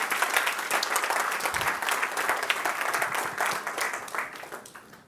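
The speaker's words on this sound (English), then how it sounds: "Can we give them a round of applause, please?" Audience applause for speakers at a design venture launch event, sustained crowd clapping close and full, tapering off toward the end.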